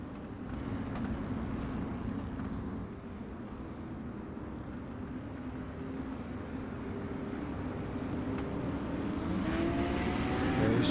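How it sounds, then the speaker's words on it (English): Street stock race car engines roar steadily in a racing video game at Cedar Lake Speedway, building in pitch and loudness toward the end as the cars accelerate on a restart, with a continuous mechanical drone throughout. "Race car taking off."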